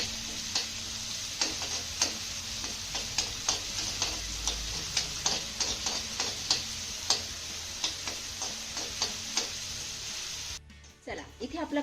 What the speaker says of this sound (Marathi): आता हा कांदा आपल्याला हलक्या सोनेरी रंगावरती चांगला परतून घ्यायचा आहे.